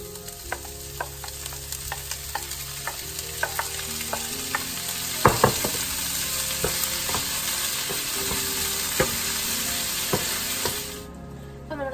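Tomatoes are stirred and sautéed with ginger and garlic in a pan, a steady sizzle broken by frequent scraping clicks of the spoon and one louder clatter midway. Near the end the sound drops away suddenly.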